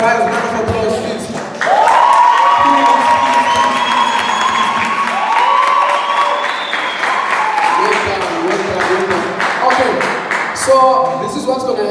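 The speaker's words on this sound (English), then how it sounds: "round of applause, please" After a brief lull, a crowd at a FIRST LEGO League practice robotics presentation erupts into loud clapping mixed with high cheering and children's shouts, swelling and continuing for several seconds.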